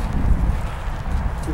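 Wind picks up across an open carrot field, a steady low rumble of buffeting against the microphone, close and fairly loud, with faint rustling and no voices.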